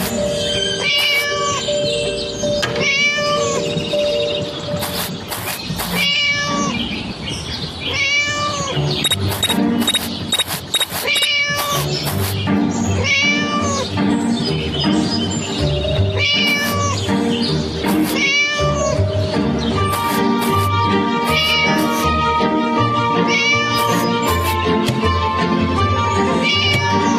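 Cartoonish meows repeat over a long stretch of the mobile horror game Scary Teacher 3D, loud and frequent over constant game music, with little talk.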